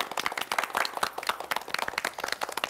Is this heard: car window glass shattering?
no